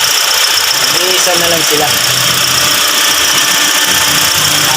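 A Toyota Vios dual VVT-i engine idles with a steady, even mechanical hum and whirr, loud and close, while someone talks briefly over it.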